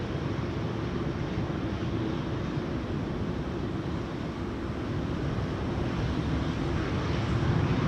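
An Embraer E2-195 comes in to land at Amsterdam Schiphol during a storm, a steady distant jet roar blended with gusting wind noise, with no voices.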